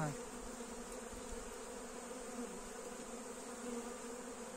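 A small six-frame honeybee colony buzzing at the hive, a soft continuous hum from nearby wings with a faint tonal whine, steady throughout and without speech.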